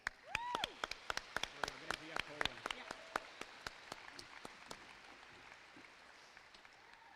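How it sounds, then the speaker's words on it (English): Scattered hand claps from a graduation ceremony audience at a high school evening event, sparse and fairly faint, fading out over the seconds, with a few whistles early on. "let's give one more round of applause"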